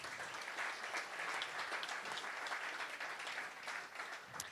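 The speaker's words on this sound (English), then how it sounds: "How about another round of applause for John?" An audience at a public talk gives another round of applause, with dense, even clapping that holds steady throughout, heard from a little distance and at a soft level.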